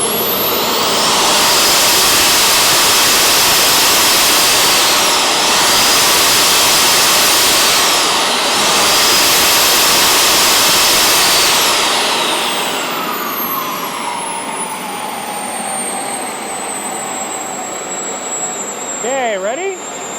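The turbine engine of a giant Skymaster F-14 XXL radio-controlled jet spooling up, a loud, close, roaring high-pitched whine that holds for several seconds before its tone sinks and fades as the engine winds down.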